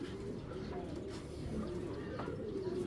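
Soft low cooing of racing pigeons, steady and close, with some faint background chatter mixed in.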